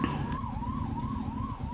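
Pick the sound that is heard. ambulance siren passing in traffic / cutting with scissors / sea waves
ambulance siren passing in traffic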